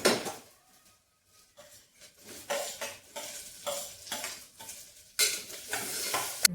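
Garlic roasts in a pan for khichdi, soft sizzling in short bursts broken by scraping stirs and light utensil knocks, close and fairly quiet with brief pauses between strokes.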